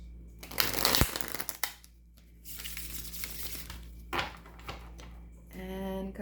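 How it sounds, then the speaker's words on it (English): A deck of tarot cards is shuffled by hand at close range, with bursts of riffling and crisp card rubbing separated by quiet pauses. "I shuffle one more time."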